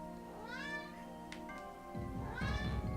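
A cat meows twice in the video game Ghost Trick, short rising calls with a pause between, fairly close and clear against a quiet background.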